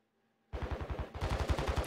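Rapid automatic gunfire in the video game Warzone 2.0 breaks out after a moment of silence, two close, loud bursts of evenly spaced shots, the second heavier than the first.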